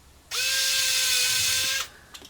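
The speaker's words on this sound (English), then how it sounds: "now I'm going to place the screws one by one" A small electric screwdriver driving a screw into the back of a Casio A164W watch: one steady, high whine lasting about a second and a half, close and loud, then stopping abruptly.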